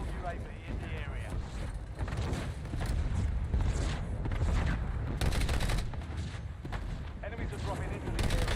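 Gunfire in the battle royale mode of Call of Duty Black Ops, a dense exchange of sharp shots and bursts rattling continuously over a loud game soundscape, with an in-game voice speaking at points.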